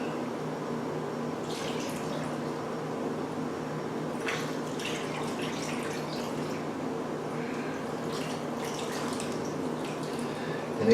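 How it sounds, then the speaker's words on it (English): Juice pours steadily into a roast pan holding a rump roast, a continuous close liquid splashing and dripping that runs unbroken for the whole stretch. "Now we're going to take and pour our juice in."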